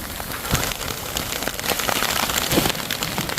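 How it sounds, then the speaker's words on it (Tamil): Heavy rain pours steadily on surfaces during a mountain trek to Mukurthi Peak, a dense, even patter with scattered louder drops and no voices. "கடுமையான மழை வந்துருச்சு."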